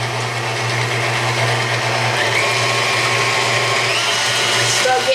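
Stand mixer with a whisk attachment beating six egg yolks, a steady loud mechanical whir with a low motor hum running unbroken throughout.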